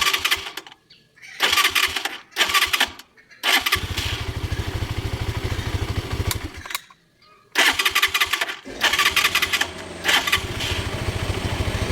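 A misfiring small engine is cranked over and over, sputtering in bursts that catch briefly and die, with rough uneven running between stretches of silence.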